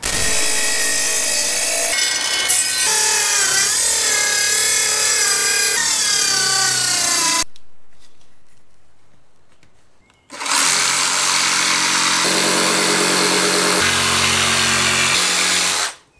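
Power saw cutting a plywood sheet for an insulated sub-floor in a camper van conversion, two loud sustained cutting runs separated by a few seconds of near silence, no talking.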